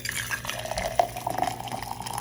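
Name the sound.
hot water poured into an ISTOYO tumbler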